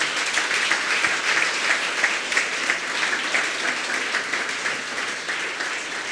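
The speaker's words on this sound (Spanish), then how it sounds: "Démosle una ofrenda de palmas al Señor" A church congregation gives a round of applause, close and fairly loud dense clapping with a slight pulsing rhythm, holding steady throughout.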